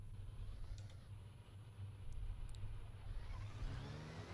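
Porsche 919 Hybrid race car engine in a sim racing game at Circuit de la Sarthe, a steady mid-pitched engine drone that rises slightly as it accelerates, fairly quiet and continuous with no talk.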